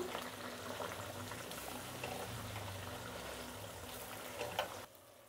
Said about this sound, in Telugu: ఇప్పుడు అన్నీ వేసాం కదా, కొంతసేపు వేయించుకుందాము.